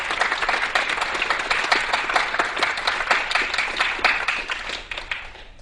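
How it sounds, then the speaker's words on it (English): A live audience gives sustained applause for contestants and hosts at a Texas quiz show championship, dense clapping from a mid-sized crowd fading out over the final second. "Let's give a big round of applause for our contestants"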